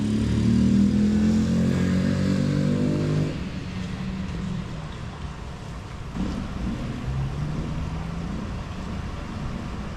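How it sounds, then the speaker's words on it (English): A carbureted 450 motorcycle engine warms up on a country backroad, a loud idling rumble that drops in pitch and level after a few seconds, then settles into a steady, lower running drone. "These are all carbureted bikes, of course, so he's just warming it up"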